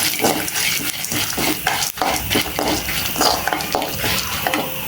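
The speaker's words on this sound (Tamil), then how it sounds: "எல்லாத்தையும் ஒட்டுக்கா ஒரு வறுத்துடலாம்" Cumin, black pepper, dried red chillies and fennel seeds dry roast together in a pan, a dense continuous rustle and crackle broken by repeated scraping strokes of a stirring utensil, close and fairly loud.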